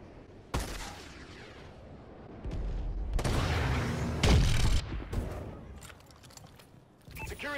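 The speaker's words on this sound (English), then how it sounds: "Friendly missile strikes inbound." Friendly missile strikes in Call of Duty Advanced Warfare multiplayer, a sharp impact followed by heavy rumbling explosions and blasts, loud and close, with scattered crackling bursts afterward and little talk.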